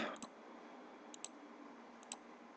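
Three pairs of soft, close mouse clicks spaced roughly a second apart, crisp and quiet against a faint steady hiss, with no voices.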